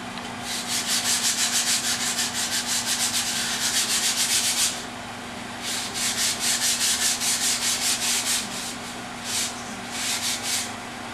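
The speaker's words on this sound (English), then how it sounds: "you want to get out your sandpaper, and you're just going to go over both sides with a light sanding" Sandpaper lightly sanding both sides of a piece, rubbing back and forth in quick, regular strokes, with a brief pause midway, close and steady.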